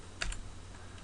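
A couple of quick keystrokes on a computer keyboard, soft close clicks in a brief burst over faint room hum while entering text into a spreadsheet.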